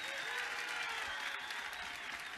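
Faint applause from an outdoor summer singing-contest crowd in Acquaviva delle Fonti, a steady even patter of clapping throughout with nothing else standing out.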